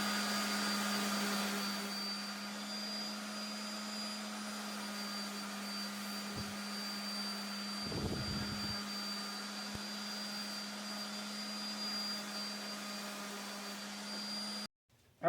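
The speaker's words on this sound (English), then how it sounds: "Now I'm going to take my orbital sander here, and I'm just going to sand them all down a little bit more with 120." An orbital palm sander working over small wooden cubes with 120-grit paper, a steady loud motor hum and buzzing drone running continuously with brief scuffing bursts, then abruptly stopping near the end.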